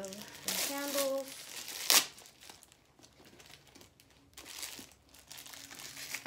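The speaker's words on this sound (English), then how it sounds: "Let's get the plastic off of the handles." Plastic wrapping crinkles and tears as it is pulled off the handles of a new purse, with loud rustling bursts and a sharp rip near the start, then quieter intermittent crinkling; a voice speaks briefly early on.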